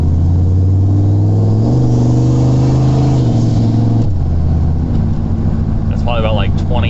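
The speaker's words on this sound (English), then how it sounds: "It runs just like a normal truck, but it's got boost." A turbocharged truck engine revs while driving, loud and close, its tone stepping through gear changes at light throttle before a faint whistle near the end.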